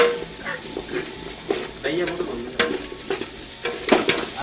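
Onions and tomatoes frying in a pan for biryani, a constant sizzle broken by rhythmic scraping stir strokes every half second or so, close and fairly loud.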